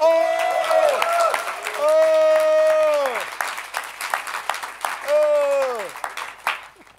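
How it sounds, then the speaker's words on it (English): Applause rises from the Cannes Film Festival audience for Tilda Swinton, a broad wash of clapping under a loud, musical announcer's voice with strong tonal sweeps, the crowd noise steady throughout. "Please, some applause for Madame Tilda Swinton."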